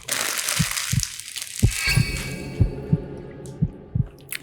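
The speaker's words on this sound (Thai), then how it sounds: "จะมีเสียงหัวใจเต้นด้วย" A deep, thumping heartbeat sound effect from a Minecraft horror mod pulses in paired beats, loud and close, over a hissing, rumbling game soundscape.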